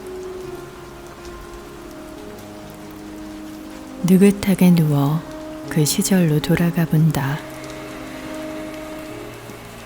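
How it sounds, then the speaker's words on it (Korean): Heavy rain falls steadily outside, a dense hiss like television static that runs through the whole stretch, with a calm spoken voice over it in the middle. "누워서 빗소리를 듣는다."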